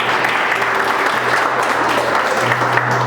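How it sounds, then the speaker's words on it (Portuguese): A church congregation applauds, sending up sustained, fairly loud clapping, while a steady low hum runs underneath the crowd. "dando uma salva de palmas para Jesus"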